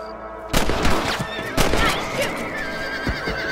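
A horse whinnies loudly amid hoofbeats and sharp percussive bangs in Red Dead Redemption, with a busy, layered game soundscape behind it.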